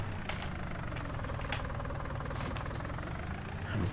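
Tractor engine in Farming Simulator 19 idles with a steady, low, rumbling drone that holds evenly throughout.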